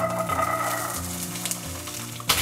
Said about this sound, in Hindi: इसे हम अच्छे से भूनेंगे